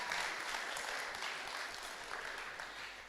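An audience at a steel orchestra concert gives sustained, even applause that fills the hall, a steady wash of clapping without speech.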